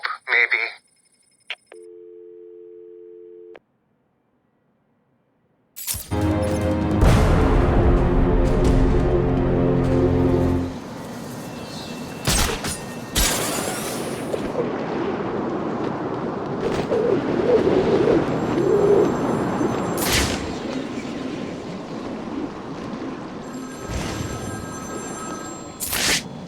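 A telephone rings in Batman: Arkham City, a short electronic trill followed by a steady dial-style tone, then dense game ambience with sharp bursts and a low rumble takes over.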